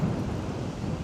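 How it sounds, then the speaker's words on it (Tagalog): Strong wind blows across a white sand beach at Nabas, Aklan, a close, heavy rumbling gust buffeting the microphone for about a second. "Malakas din naman ng hangin."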